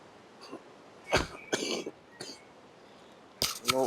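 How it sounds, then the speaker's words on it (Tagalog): Several separate coughs and throat-clearing bursts spread across a few seconds, fairly close and moderately loud, with quiet pauses between them and a sharper double cough near the end. "Inuubo pa nga."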